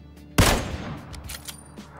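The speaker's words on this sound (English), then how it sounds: "let's get started with the most commonly used and found sniper rifle in the game, the Kar 98" A single loud Kar 98 bolt-action sniper rifle shot in PUBG cracks out sharply, then trails into a decaying echo with faint reverberant tail and scattered small sounds, no talk.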